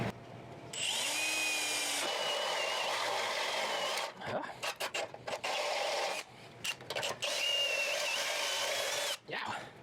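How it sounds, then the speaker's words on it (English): A power drill whirs steadily at high speed drilling holes in metal, stopping and restarting several times, with short rattling pauses between bursts, close up. "So let's drill those holes"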